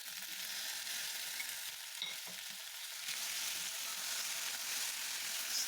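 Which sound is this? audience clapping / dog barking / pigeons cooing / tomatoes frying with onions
tomatoes frying with onions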